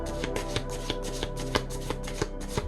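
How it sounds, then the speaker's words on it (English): Tarot cards are riffled and shuffled by hand in quick repeated bursts, crisp papery flutters with light taps, close and clear with no talking. "We're going to shuffle."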